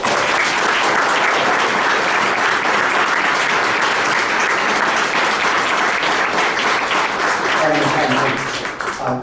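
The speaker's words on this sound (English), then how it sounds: "Let's give George a big round of applause." Loud, dense applause from a conference audience at a Sioux Falls neighborhood champion awards event, sustained for about eight seconds before quickly fading as a voice begins.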